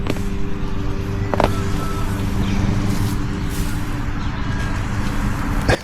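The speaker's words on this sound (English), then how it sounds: "Mainly traffic." Steady road traffic rumbles past an RV parked outdoors on a hot July day, a continuous broadband wash of engines and tyres with a brief thump partway through, loud and close, with no talk.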